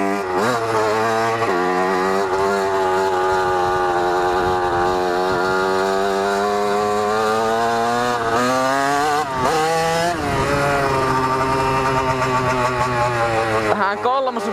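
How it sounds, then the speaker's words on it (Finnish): An 82cc motorcycle engine revs hard in third gear, a loud, steady drone whose pitch climbs and dips through the run, with a brief dip near the middle before it pulls again, close to the rider. "Kolmosvaihteen tehopiikille vetää sitä."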